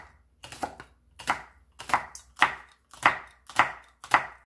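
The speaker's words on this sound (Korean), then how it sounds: "홍고추 2개 송송 썰어줍니다." A knife chops two red chili peppers into thin rounds on a cutting board, seven crisp, evenly spaced thuds in a steady rhythm, close and clear with no talking.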